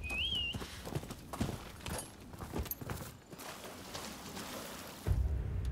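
Horse hooves clip-clop at a steady walking pace in Rise of the Ronin, moderately close and fairly quiet beneath ambient outdoor game sound.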